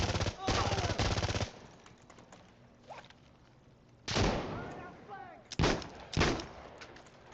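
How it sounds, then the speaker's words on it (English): Several loud bursts of automatic fire from a FAMAS F1 rifle in Insurgency Sandstorm, an opening volley, then a longer sustained burst and two short final bursts with quieter gaps between, as the magazine is emptied. "I just magged on that whole thing."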